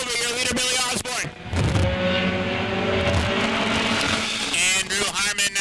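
Pure Stock race cars roar around Star Speedway oval track, several engines rising and falling in pitch as they pass, heard loud beneath continuous announcer commentary.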